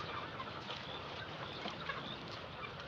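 Chickens on a poultry farm of about two hectares make a faint, dense murmur of clucking and rustling that blends into a steady low background wash, with no talking.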